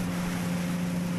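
A boat engine at full throttle drones in a steady, loud hum with rushing wind and water noise over it, unbroken and close by, with no talk.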